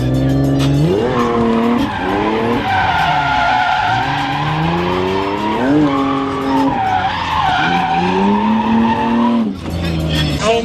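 Drift cars on a race track during a practice day scream with long, wavering tire squeal and howling engines that rise and fall through repeated slides, loud and close, with a short break near the end before the squeal resumes.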